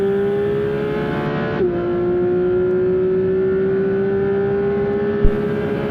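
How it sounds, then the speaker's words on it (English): A Porsche 992 GT3 RS engine pulls hard on the Spa-Francorchamps circuit, its steady high-pitched tone rising briefly then holding a strong sustained drone, heard loud from inside the car. "turn in and keep the car steady on the accelerator"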